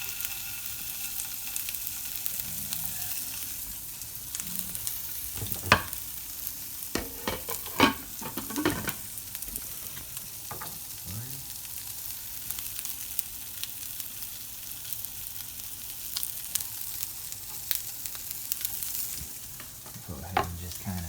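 Breakfast sausage fries and gets stirred in a pot for gumbo, a soft continuous sizzle broken by scattered sharp scraping and clinking spoon strokes, close up with no talk.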